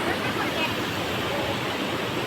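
River water rushes steadily at a riverbank where a Ganesha idol is brought for immersion, a dense, unbroken hiss of flowing water close by with no clear talk.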